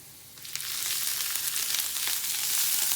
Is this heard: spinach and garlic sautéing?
yes